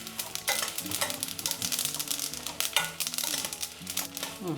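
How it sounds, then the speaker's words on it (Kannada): Mustard seeds and fenugreek crackling and sizzling as they fry in hot oil for a gongura chutney tempering, with steady dense popping and stirring noises close up; no talking. "ಹಾಗೆ ಸಾಸಿವೆನೂ ಈಗ ಚಟಪಟ ಅಂತಿದೆ"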